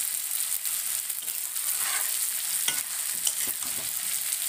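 Fish being stir-fried in a pan with tomato, cumin powder, green chili, red chili powder and a little sugar, giving a steady bright sizzle with occasional scraping stirs.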